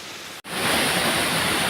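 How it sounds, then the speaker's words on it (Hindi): Waterfall pouring fast down a mountainside beside steep stone stairs in a forest, a loud, dense, continuous roar of rushing water, close and unbroken after a brief dropout at the start. "और बगल से झरना भी गिर रहा है काफ़ी तेज़ी से।"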